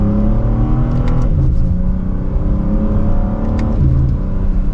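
A 2025 BMW M4 Competition xDrive in sport mode pulls hard in second gear, engine note climbing steadily and loud from inside the cabin, with a brief dip at a shift before the revs build again.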